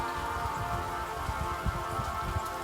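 Steady rain falls and patters on a surface, a dense continuous hiss with soft drop impacts throughout and no voices.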